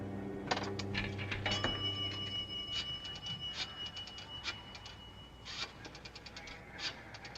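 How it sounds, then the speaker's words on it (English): A nickel drops into a pay phone slot in a 1950s New York setting, a faint run of small metallic clinks and ticks with a light ringing tone, quiet and distant under a soft background hum. "Sheila dropped a nickel in the slot."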